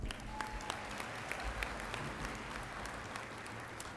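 Commencement audience applauding graduates, a steady wash of many hands clapping throughout at moderate distance, even and sustained without a break.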